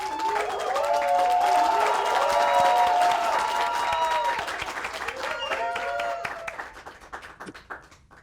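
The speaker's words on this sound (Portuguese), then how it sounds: "Uma salva de palmas para nossa querida convidada da noite, Maria Leopoldina!" Applause and cheering from a crowd welcoming a guest on an evening show, with whoops and squeals rising over the clapping, then fading out toward the end.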